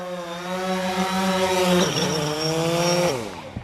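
A small drone whines steadily at close range, its harmonic motor tone wavering as it maneuvers, then pitching down as it settles in to land, with no talk over it.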